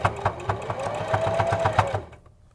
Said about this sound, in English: I'm going to sew along to the end